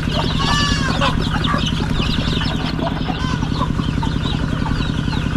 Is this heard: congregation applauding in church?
no